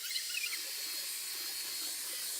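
An Anker Mach V1 Ultra all-in-one vacuum mop steaming a floor gives off a steady, quiet, airy hiss that holds evenly throughout, with a few faint chirps near the start and no voices.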